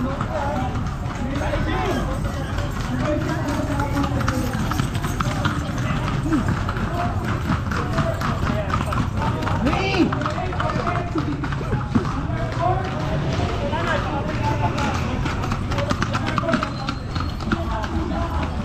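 Horses gallop in a traditional festival horse game, giving a dense, continuous clatter of hooves under a crowd and a loud announcer who talks almost the whole time.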